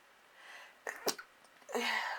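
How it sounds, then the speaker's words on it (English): A short, stifled sneeze, a quick breathy burst followed by a second weak puff, close and fairly quiet, ending in a breath. "That was like a half sneeze."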